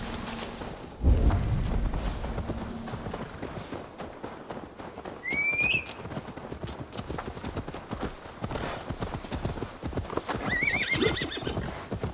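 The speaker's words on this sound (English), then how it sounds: "Now to deliver Magni his horse" A horse whinnies loudly over a continuous patter of hoofbeats, followed by further whinnies and snorts while the galloping carries on, all against background ambience from the video game Assassin's Creed Valhalla.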